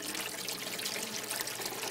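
Water rushes steadily as a bell siphon drains an aquaponics grow bed, a continuous bright hiss of flow with no pauses.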